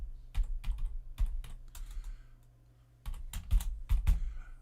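Someone types a web address on a computer keyboard, with quick bursts of key clicks, a short pause in the middle, then another flurry of keystrokes up close.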